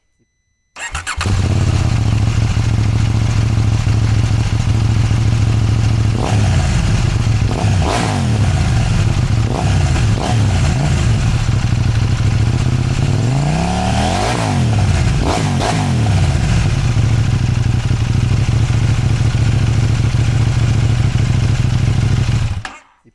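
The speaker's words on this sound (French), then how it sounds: "ici on a un pot X-Race. Tu vois, il fait une sonorité sympa pour pas très cher." A KTM Duke 790 motorcycle fitted with an X-Race aftermarket exhaust idles with a steady deep burble, then revs in several sharp throttle blips, loud and close, with no talking.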